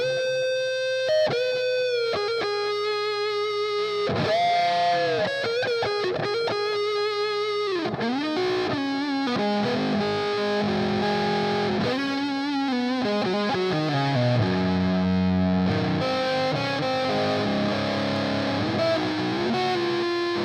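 A Gibson ES-137 electric guitar on its neck pickup plays a continuous distorted riff of sustained notes and bends, loud and clear with no talking.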